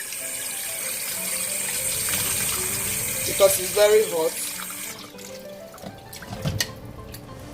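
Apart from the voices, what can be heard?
cold water running over hot meat, rinsing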